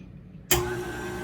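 A KitchenAid stand mixer fitted with a dough hook switches on with a sudden onset, then runs steadily with a loud, even motor whir and faint rattle, close and alone.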